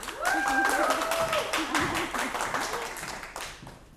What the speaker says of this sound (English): So please give a big round of applause for Master Debbie Love.